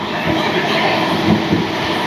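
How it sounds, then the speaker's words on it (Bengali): Netaji Express running with new LHB coaches through Bihar on its inaugural run, giving a steady, loud rolling rumble with faint rhythmic rail clatter throughout, close and continuous. "নেতাজি এক্সপ্রেসে যাত্রা হচ্ছে।"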